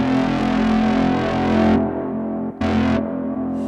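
A gritty, distorted acid techno synth drone washed in reverb. It plays loud, then drops to a lingering tail before another bright burst returns and fades into the wash.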